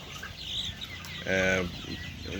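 Broiler chickens at 43 days old cluck on sand litter in a poultry shed, with one clear, close cluck standing out midway over a low background of birds and hum.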